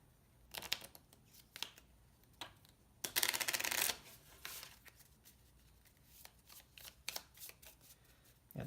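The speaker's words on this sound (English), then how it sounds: "So we'll shuffle this up." A deck of playing cards for the One Deck Dungeon card game is shuffled up close, with repeated riffles and a loud burst of cascading cards midway, then lighter handling afterwards, with no talking.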